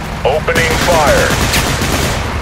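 Total Conflict: Resistance gunfire comes as a sustained, close burst of rapid shots that fills the moment, mixed with brief radio-like voice chatter over the top.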